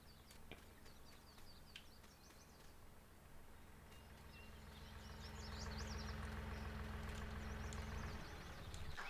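A farm tractor engine idles steadily in a Farming Simulator 19 game on the Oakhill map, a low continuous rumble that swells louder midway, then cuts off near the end, with faint birdsong over it.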